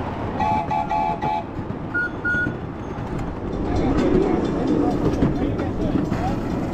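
A miniature model railroad train rumbles along its track at a model engineers' meet, a steady mechanical clatter under background chatter, with a couple of brief high tones early on.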